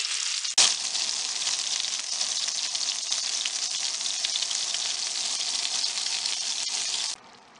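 Chili con carne meatballs brown in a hot pan, giving a loud, continuous sizzle that starts abruptly with a sharp hit, holds steady for several seconds and then cuts off.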